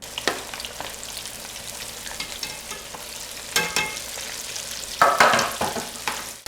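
Chicken pieces fry in hot oil in a covered pot, giving a steady crackling sizzle with sharper bursts of spattering near the end; no one speaks.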